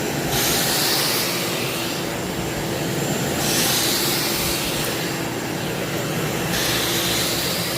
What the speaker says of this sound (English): Your satisfying video, your satisfying vacuum video.